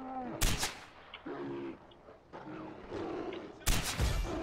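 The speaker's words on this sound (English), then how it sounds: "let's see if I can snipe him through the roof" Sniper rifle shots in Far Cry 4 multiplayer fired through a roof, two sharp loud cracks near the start and end amid ongoing game noise and distant gunfire.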